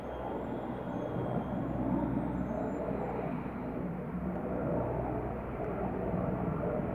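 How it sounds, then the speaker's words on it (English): A low-flying fleet of military helicopters passes overhead as a loud, steady, deep droning rumble that stays constant throughout. "Military helicopter."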